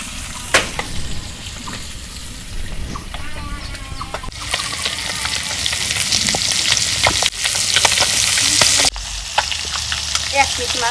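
Spice-coated fish frying in hot mustard oil gives a steady, close sizzle and crackle that grows louder midway, with scattered pops, stirring clatter and a few faint clucks from chickens somewhere in the background.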